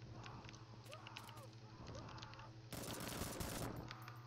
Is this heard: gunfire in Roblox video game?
yes